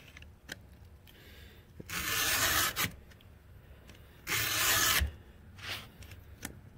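Chainsaw cutter teeth being sharpened by hand with a file: two long, loud rasping strokes stand out clearly, separated by softer scrapes and light metallic taps in a quiet setting.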